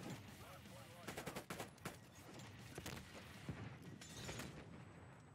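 Rapid gunfire fills a Call of Duty Hardpoint match, bursts of automatic shots and sharp cracks layered over continuous game noise, close and loud, with voices intermittently underneath.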